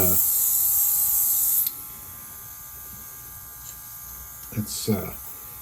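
A $10 airbrush hisses with steady compressed air, loud and broadband for the first second and a half, then drops to a fainter constant flow with a few short bumps near the end.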